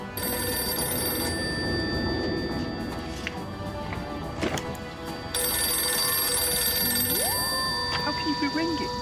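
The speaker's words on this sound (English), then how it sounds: "What am I supposed to do with a ringing phone?" A telephone rings with repeated electronic bell tones over background music and speech, growing louder and brighter partway through.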